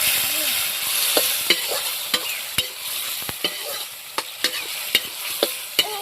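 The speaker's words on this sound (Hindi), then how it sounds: "अभी इसको इसी में आपस में मिक्स कर देंगे, तो ये जल्दी से टमाटर जो है पकने लगेंगे" Tomatoes with salt are stirred in a kadai for dhaba-style ridge gourd sabzi. A spoon strikes the pan in a steady run of sharp taps every half second or so over a low background sizzle, with no voices.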